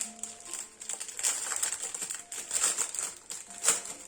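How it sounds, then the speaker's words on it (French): Plastic packaging of a diamond painting kit crinkles and rustles in irregular bursts during unboxing, fairly close, with no talking. "Ah, et ces bruits de papier. Ouh, enfin, papier, plastique surtout."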